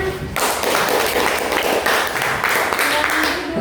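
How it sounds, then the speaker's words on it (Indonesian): A classroom of students applauds after a group presentation, close, busy clapping with taps and thumps mixed in and voices underneath. "tepuk tangannya"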